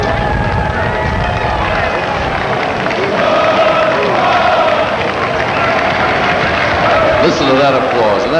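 Crowd applause and cheering along a parade route at the 1991 Indianapolis 500 Festival Parade honoring Operation Desert Storm troops, a continuous roar of clapping and shouts under a commentator's voice, fairly loud and sustained.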